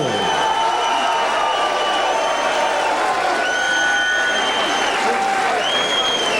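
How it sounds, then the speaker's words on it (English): A crowd at a professional boxing match applauds and cheers for boxer Jamie Howe after a TKO loss, a continuous wash of clapping and crowd noise with a few whoops and voices mixed in. "Let's have a nice round of applause for Jamie Featherman Howe."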